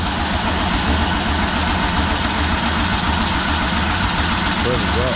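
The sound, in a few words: supercharged 5.3 V8 engine starting and running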